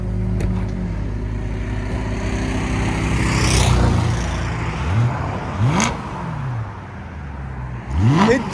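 A 2011 BMW M3 with a 4.0L V8 and resonator-deleted exhaust revs repeatedly, loud and close, its note climbing in several sharp blips over a rumbling idle.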